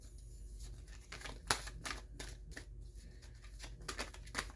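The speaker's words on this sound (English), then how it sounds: "I don't know why it's being difficult to shuffle these" Tarot cards are shuffled in the hands during a reading, a quiet series of soft riffling and slapping bursts at close range, irregular and slightly clumsy.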